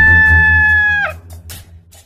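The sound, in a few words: rooster crowing in audio story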